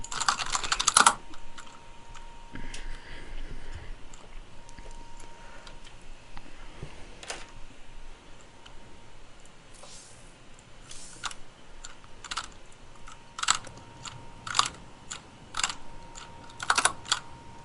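Keys clatter on a computer keyboard during a 2v2 esports match broadcast, sparse clicks early then quicker bursts of typing near the end, close and fairly quiet with no talk.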